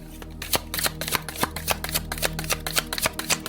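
Playing cards shuffled by hand for a spiritual card reading, a rapid run of crisp riffling snaps and flutters in a steady rhythm, close and fairly loud, with no voices.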